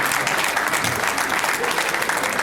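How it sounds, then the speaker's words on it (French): Sustained applause from an audience at the official inauguration of the Congolese community association in Washington, D.C., steady dense clapping throughout with no pauses. "Vous pouvez applaudir pour eux."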